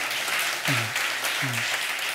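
A church congregation applauds during a Sunday worship service, giving steady dense clapping that fills the room throughout. A voice speaks briefly over the applause.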